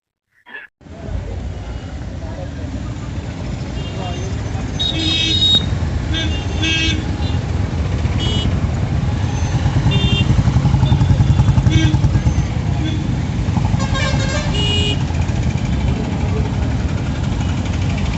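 Busy road traffic on the way to a large tribal hill-area market, with a continuous engine rumble from cars and motorcycles and several clusters of horn honks sounding through the middle and later part.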